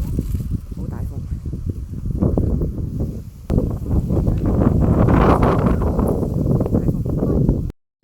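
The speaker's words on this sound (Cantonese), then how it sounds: "呢個好大風，好大風" Strong gusty wind sweeps across a hilltop on Ng Kwai Shan in Hong Kong. It makes a loud, rumbling buffeting that surges and eases, with voices talking underneath.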